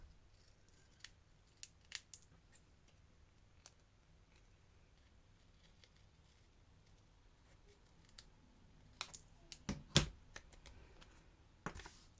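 Scissors cut out a paper shape, with faint sparse snips and small clicks spread across a quiet stretch and a brief flurry of sharper cuts toward the end.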